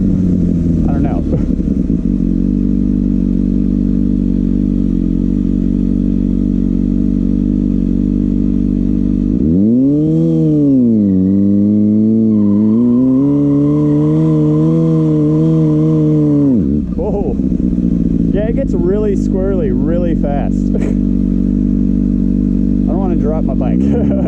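A Kawasaki ZX6R motorcycle attempts a rolling burnout on gravel, its engine loud and close in a steady drone, then revving up and holding high through the middle before dropping back, with some clatter near the end.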